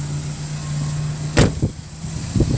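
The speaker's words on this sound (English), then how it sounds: "Pop the hood." A car hood pops open with one sharp latch clunk, followed by a couple of softer knocks, while the engine idles with a steady hum beneath.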